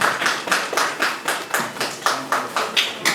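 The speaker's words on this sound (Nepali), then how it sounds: "जोडदार तालीको पनि आह्वान गर्दछु।" Applause at a Nepali book launch ceremony comes in distinct rhythmic bursts of clapping, close and steady, with no talk over it.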